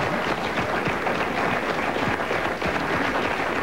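Studio audience at a daytime talk show bursts into sustained, dense applause, many hands clapping steadily and evenly for several seconds with no voices over it.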